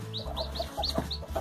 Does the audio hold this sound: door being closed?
no